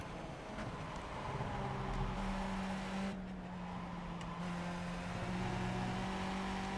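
A steady Skip Barber F2000 race car engine in iRacing at Silverstone drones throughout, holding a constant pitch with slight shifts, like a slow race car cruising along with no voices.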